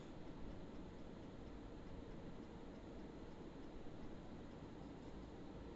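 A train rumbles continuously in a video game, a steady, dense, faint roar with no breaks.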